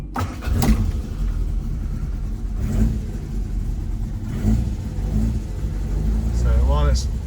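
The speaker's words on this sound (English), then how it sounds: "So I'm going to turn on the" A cold Lotus Cortina's engine turns over and settles into a rough, revving idle, loud and steady throughout, with someone talking over it.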